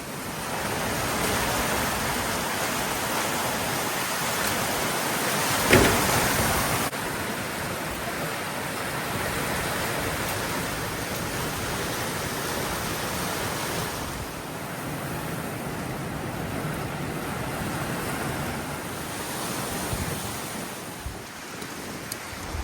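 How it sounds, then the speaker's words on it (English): Strong, steady wind blows across a sailboat on a windy evening, a constant roaring rush with a brief louder gust near the middle, no voices. "It's a very windy Tuesday evening."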